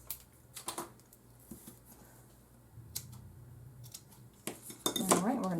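Scissors snip off the extra twine while a floral card is made from paper scraps, with a few close, crisp clicks and a louder cut near the end against quiet room background.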